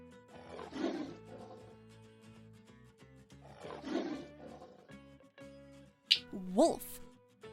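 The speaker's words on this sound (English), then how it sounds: "tiger" Tiger roaring in a children's animal-sound sequence, two deep rumbling roars a few seconds apart followed by a sharper snarl, moderately loud against a quiet background.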